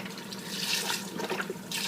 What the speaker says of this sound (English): And then we're also going to add some water.